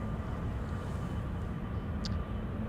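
A KLM jet departs Amsterdam Schiphol for Delhi, heard as a faint, steady distant engine rumble with a low drone and no talk.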